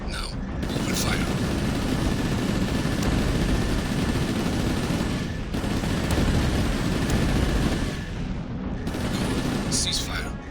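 Mech weapons open fire on a vehicle in the game Chromehounds, a loud, dense roar of continuous heavy firing that briefly drops out twice before resuming.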